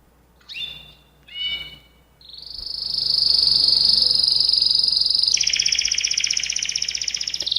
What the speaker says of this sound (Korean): 카나리아 새소리를 제가 직접 녹음을 했습니다